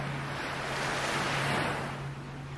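Ocean waves wash steadily onto a beach as a broad, continuous surf roar, with some wind noise on the microphone and a low steady hum underneath.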